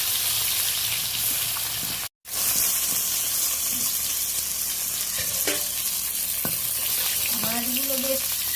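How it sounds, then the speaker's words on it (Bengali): Bhetki fish pieces frying in hot oil in a pan give a steady, close sizzle and crackle throughout, briefly cut off once, with a few light clinks of utensils near the end. "এইভাবে লালচে করে সব মাছগুলোকে ভেজে নিতে হবে।"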